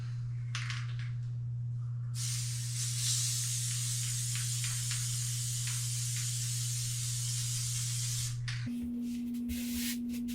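Spray adhesive hisses from a can while a vertical flat lay rig is built. One steady, close spray lasts about six seconds over a constant electrical hum, then stops as the hum shifts pitch.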